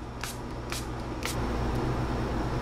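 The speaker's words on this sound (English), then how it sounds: "now let's spray it all down" Makeup setting spray misted over a finished fall makeup look, three short quick spritzes in a row, close to the mic over a faint steady room hum.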